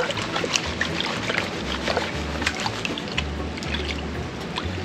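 Water sloshing and trickling in a gold pan as gravel is swirled by hand, a steady close wash of splashing with soft pours running through the whole stretch.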